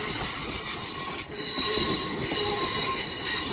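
A London Northwestern Railway train to Liverpool Lime Street passes close by with loud, sustained high-pitched wheel squeal over a steady rumble of rolling stock.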